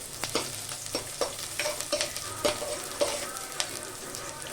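Onions frying in a pan until brown, sizzling steadily close by while a utensil stirs and scrapes them in a regular rhythm of sharp strokes, with no talking.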